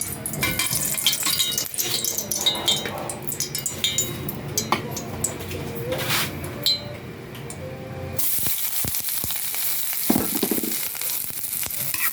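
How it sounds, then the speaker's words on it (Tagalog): Garlic and onion sauté in a pan for ground pork, a continuous close sizzle with scattered crackles and stirring scrapes, then a louder burst of hiss partway through. "Sangkutsa na natin yung bawang at sibuyas."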